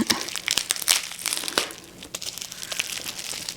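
Close, busy crinkling and crackling of plastic packaging being pulled open, with sharp snaps and rustles throughout and no talking.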